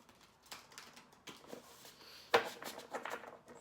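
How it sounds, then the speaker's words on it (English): Tarot cards being shuffled by hand, giving soft papery riffles and flicks in short irregular bursts with one sharper slap, quiet and close, with no talking. "One more shuffle."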